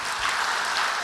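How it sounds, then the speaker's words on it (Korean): Sustained applause from a church congregation welcoming a visiting pastor and his family, a dense even patter of clapping hands filling the room throughout. "박수로 환영해 주시기 바랍니다"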